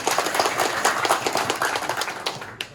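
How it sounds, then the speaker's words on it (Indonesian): A village gathering in Warukin, South Kalimantan, gives steady, dense handclapping for a customary leader and the village head. The applause stays continuous and fairly close throughout, with faint voices mixed in. "Tepuk tangan dulu buat beliau."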